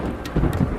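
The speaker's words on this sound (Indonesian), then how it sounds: "Azab Allah pun turun berupa petir yang menyambar dengan amat keras" A thunder strike effect during a rainstorm: a deep, heavy rumble with low booming swells over a constant hiss of rain, loud and close, with no voices.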